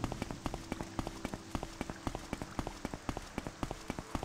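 Morrowind game rain pours as a dense, bright, even wash of noise, overlaid by a quick regular series of crisp taps throughout, close and steady without any talking.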